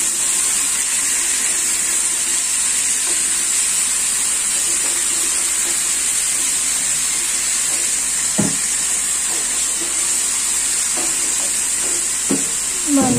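Onion and meat frying together in a pan, a steady, loud, close sizzle throughout with occasional spatula scrapes and taps while being stirred, no voices.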